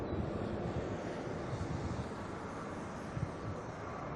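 Malaysia Airlines Airbus A330-900 at Auckland Airport, a steady broadband jet roar held loud and constant throughout, with no voices over it.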